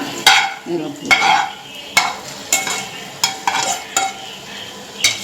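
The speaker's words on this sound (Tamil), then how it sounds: "முட்டையை உடைச்சிடாமல் கிளறி விடுங்க" Boiled eggs stirred gently into thick egg masala in a pan, with a steady run of scraping, clinking strokes of the spoon against the metal over a soft sizzle, close and fairly loud, no voices.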